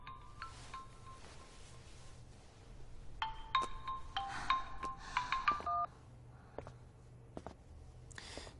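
A mobile phone rings indoors during a quiet scene, a short run of bright electronic ringtone notes rising in pitch over a few seconds, moderately loud and close, with faint footsteps and room noise around it.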